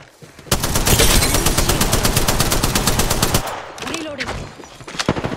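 A light machine gun fires in a shooter video game, a long rapid sustained burst of close, loud shots followed by a few shorter bursts.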